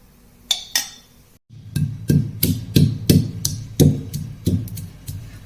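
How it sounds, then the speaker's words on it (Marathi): Malvani chicken curry masala is ground by hand on a stone grinding slab (pata), heard as a series of close, rhythmic knocking strokes of stone on stone with brief scraping between them. "आता हे आपण मस्तपैकी पाट्यावर वाटून घेऊया"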